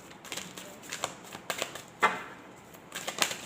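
Tarot cards being shuffled make a run of quick, dry clicks and flicks, close and moderately quiet, with uneven rhythm and a couple of sharper snaps.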